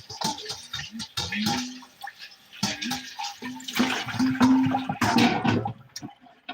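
Bowls rinsed out under a running kitchen tap while making apple juice: a steady close rush of water that surges and splashes in uneven bursts, with no speech over it.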